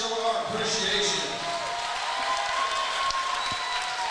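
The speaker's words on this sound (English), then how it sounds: "Let's give a round of applause, show our appreciation." Crowd applause at a fighting championship event, a steady dense wash of clapping with cheering voices mixed in, held at an even level throughout.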